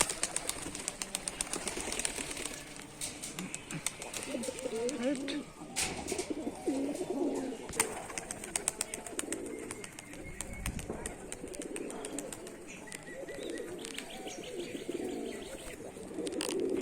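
Giribaj pigeons from Rajshahi coo in soft, repeated throaty rolls, mixed with scattered chirps and occasional wing flaps, faint and close, against quiet background noise and some sharp clicks.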